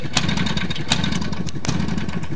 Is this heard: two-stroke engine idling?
yes